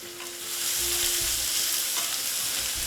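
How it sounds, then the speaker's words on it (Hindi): Finely chopped small onions and curry leaves frying in a pan, a loud, steady hiss of sizzling with a few soft stirring bumps and no voices. "ये प्याज मैं 2 से 3 मिनट फुल पे चलाते हुए और उसके बाद सिम पे अच्छे से भून लूँगी"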